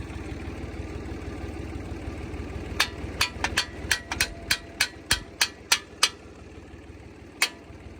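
A run of sharp metallic hammer strikes, about a dozen in quick irregular succession, ringing out over a steady tractor engine drone while adjusting a homemade potato hiller.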